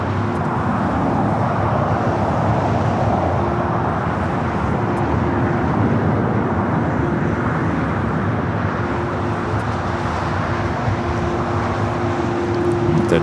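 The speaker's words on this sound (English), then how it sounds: "We have another A350 on the takeoff roll, 24 left." A Delta Airbus A350 on its takeoff roll at LAX, bound for Atlanta, makes a loud, sustained engine roar with a steady low rumble and whine that holds for the whole stretch.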